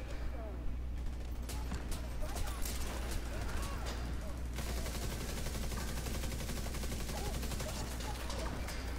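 A deployed turret in The Division 2 fires continuous rapid bursts of automatic gunfire that blend into a dense, steady clatter for the whole stretch, with battle noise behind it.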